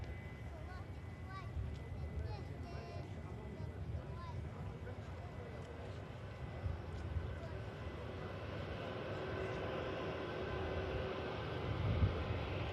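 A Pegasus airliner from Istanbul on final approach sounds as a faint, low engine hum in the distance, gradually rising, with a voice talking over it.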